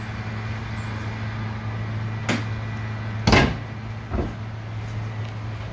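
The rear engine cover of a 1988 Lotus Esprit is popped open, giving a couple of sharp mechanical clunks and a softer thud over a steady low idle-like hum.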